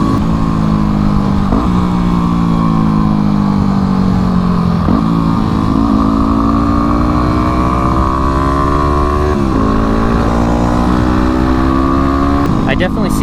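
A Kawasaki KLX351 dual-sport motorcycle engine revs up hard through several gears, each pull rising in pitch before a brief dip at the shift, loud and close with wind rush throughout.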